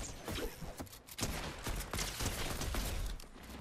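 Rapid AK rifle fire in Fortnite, dense overlapping gunshots over a constant game soundscape, loud and close throughout with no pauses.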